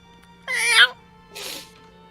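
A human voice imitating a cat, giving two meows: a longer wavering one and then a shorter, softer one, close and clear over a faint low hum.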